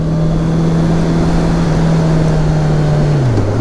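A 2023 Honda CBR650R sport bike engine holding a steady, loud, droning rev while riding, the pitch sagging slightly at the end, with no talking.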